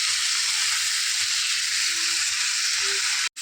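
Steady, close sizzling of rice frying in a pan, a continuous crackling hiss with no talking.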